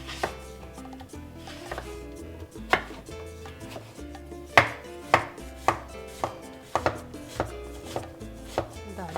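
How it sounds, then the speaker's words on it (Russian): A knife chops a peeled zucchini into coarse pieces on a board, giving about a dozen sharp, close knocks at an uneven pace. The kitchen is otherwise quiet, with no voices. "Замечательный, полезнейший овощ нарежем не крупно."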